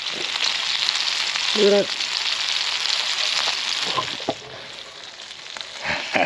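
Food sizzles and crackles steadily on a homemade camp stove made from disposable roasting trays and tent pegs, at a coastal wild-camping tarp site. The frying is close and continuous while someone speaks briefly over it.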